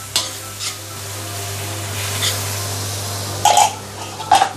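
Okra stir-fries with sambal in a wok under a steady low sizzle, with a few sharp metal spatula scrapes and clanks against the pan, close up.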